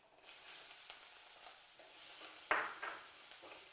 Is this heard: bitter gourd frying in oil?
yes